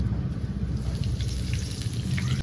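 Whole tempering spices and nigella seeds sizzle in hot mustard oil while a hilsa fish curry is prepared, producing a steady, close hiss with small crackles throughout and no speech.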